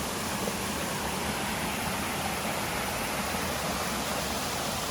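A waterfall on the Appalachian Trail near Undermountain Road gives off a continuous, even rushing roar, heard from a distance with no voices.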